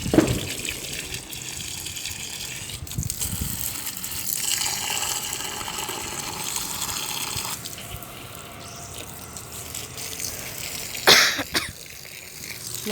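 Water gushes from a hose onto plants in a terrace garden as a close, steady rushing flow. A sharp cough breaks in near the start and again near the end.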